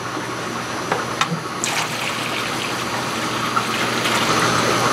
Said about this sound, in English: we're going to fill this up about a third of our 12 gallons with water